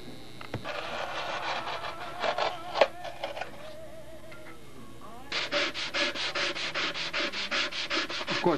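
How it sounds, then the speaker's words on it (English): Close scraping of a sanding block on wood, first irregular rubbing, then a steady run of rhythmic back-and-forth strokes. "get the final angle in with a sanding block"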